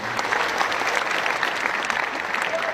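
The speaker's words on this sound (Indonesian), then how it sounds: "Tepuk tangan semuanya." Steady applause from an audience after a speech, a dense wash of clapping hands throughout with faint crowd murmur, moderately distant.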